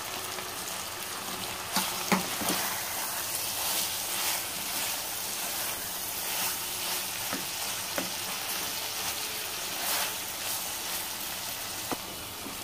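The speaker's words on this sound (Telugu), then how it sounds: "టొమాటోస్ యాడ్ చేసుకుందాము." Chicken and tomatoes sizzle steadily in a pan for an Andhra-style cucumber chicken curry, a constant close hiss with faint crackles and a few stirring clicks and scrapes.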